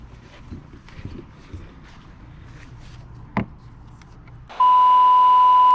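A loud, steady electronic beep tone starts partway through and holds to the end as a censoring sound effect, cutting over faint background noise and a brief knock.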